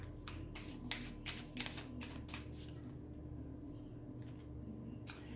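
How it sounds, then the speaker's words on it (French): Oracle cards shuffled by hand, a quick run of soft papery riffles and flicks in the first half, then a quieter pause and a single card snapped out near the end, close and faint over a low steady hum. "Je vais vous tirer une carte."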